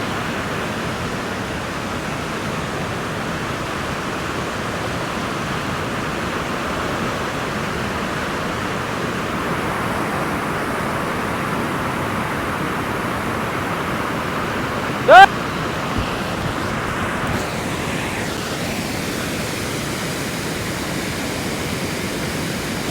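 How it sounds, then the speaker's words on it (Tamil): Floodwater rushes hard over the Unnichai tank spillway in Batticaloa, a loud, unbroken roar close by, with one brief knock and faint shuffling partway through. "சும்மா தண்ணி வேற லெவலில் அடிச்சுட்டு போய்கொண்டே இருக்கு"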